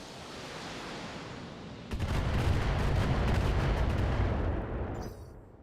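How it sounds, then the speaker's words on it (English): Long-range missiles fire in Battletech, a dense roaring volley that jumps in loudness about two seconds in and rumbles on as a sustained barrage of overlapping launches before tapering off. "we're just going to shoot this guy"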